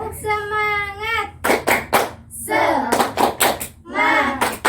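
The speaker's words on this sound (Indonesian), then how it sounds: "kita tepuk semangat dulu ya" Eighth-grade class doing a rhythmic spirit clap (tepuk semangat), bursts of sharp group claps in a set pattern alternating with children chanting together, close and loud.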